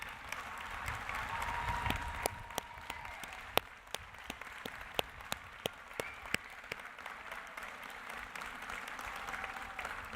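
A graduation ceremony audience gives a long, steady round of applause, a soft crowd wash punctuated by sharp, distinct nearby claps and occasional cheers.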